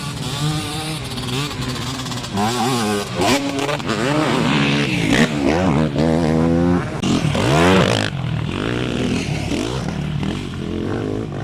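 Two-stroke motocross motorcycle at a motocross event in Bougneau, its engine revving and rising and falling in pitch continuously and loudly throughout, with brief bursts of throttle and changing distance.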